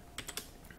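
Typing on a TI-Keyboard attached to a TI-84 Plus Orion calculator: four or five quick, faint key clicks in a short burst.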